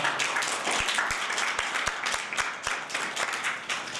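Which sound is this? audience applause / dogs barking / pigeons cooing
audience applause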